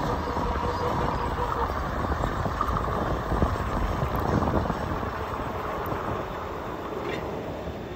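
A train rumbles steadily close by with broadband rolling noise and faint metallic clatter, the roar holding fairly constant throughout.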